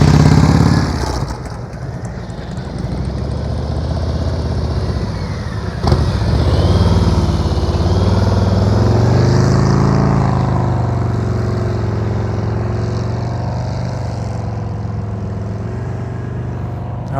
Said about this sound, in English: I can hear Demetrius' engine from here, and that's what I want. I want your revs up.